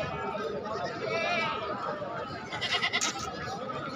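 Goats at a livestock market for qurbani, with a wavering bleat among the crowd's chatter and someone talking close by in Hindi-Urdu.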